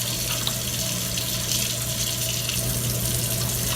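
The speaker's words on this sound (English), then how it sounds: "you're going to want to wash your hands." A tap running steadily into a sink while hands are washed with soap under warm water, a constant close gushing stream with no talk.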